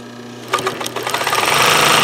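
A sewing machine stitching a tight zigzag bar tack at zero stitch length and widest width, a low motor hum that breaks into fast rhythmic needle chatter building louder, close up.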